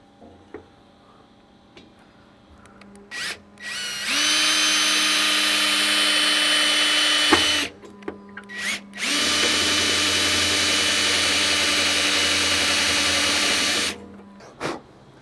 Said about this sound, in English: So I'm going to go ahead and pre-drill this out. I'm using a 3/16 bit.